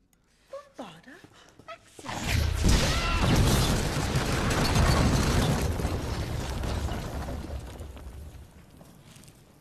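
A Bombarda blasting spell from a Harry Potter film goes off as a huge explosion and sustained rumbling roar. It follows a few faint sounds and a brief voice, then booms loudly and rolls on for several seconds before slowly fading.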